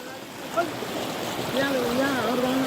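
Water streaming over a damaged road around someone's feet on the way to Sunkoshi, a steady close rushing wash with a voice talking over it.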